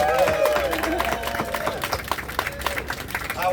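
Crowd at a New York City Trick or Streets announcement applauds the public space team, brisk clapping and cheers with a speaker's voice and a high squeal of feedback at the start.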